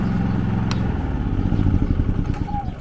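A Harbor Freight Predator 3500 portable generator engine drones loudly and close. Its tone shifts after about a second as the engine is shut off, then a rough mechanical rumble carries on to the end, with no voices.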